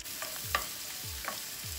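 Onions with ginger, nutmeg and other spices frying in a pan for a ground pork and coconut curry, a steady soft sizzle broken by a few scraping stirs of a utensil, close by with no talking.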